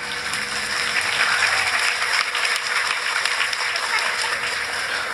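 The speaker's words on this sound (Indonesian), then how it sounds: "Ayo kasih tepuk dirusak. tangan, kasih tepuk tangan." An audience at an Islamic religious gathering (pengajian) claps steadily and continuously, a dense even wash of applause throughout.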